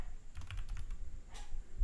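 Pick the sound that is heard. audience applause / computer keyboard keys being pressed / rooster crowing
computer keyboard keys being pressed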